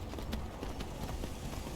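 Horse hooves clip-clopping in the video game Skyrim, a steady run of soft hoof falls under a dense, constant wash of outdoor game ambience.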